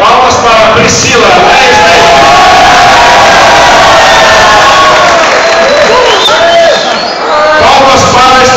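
Loud, steady cheering and shouting from a Star Wars convention audience at a women's cosplay contest, whoops rising above the crowd roar with some clapping underneath.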